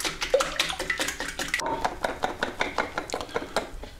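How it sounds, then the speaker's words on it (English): Eggs and sugar are whisked by hand in a bowl, making a fast, steady run of light clinking taps that continues without a break at close range. "I'm going to whisk these eggs until they become really light and fluffy"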